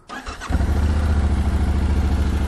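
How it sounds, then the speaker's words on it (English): A Yamaha Ténéré 700 motorcycle engine cranks briefly, catches and settles into a loud, close, steady idle with a rhythmic throb. "let me start the engine."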